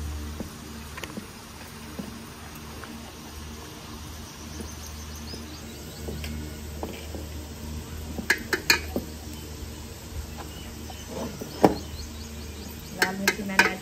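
A spoon adds red chili to a dish in a village kitchen, giving a few scattered light metallic clinks against a pot over a steady low hum, mostly toward the end.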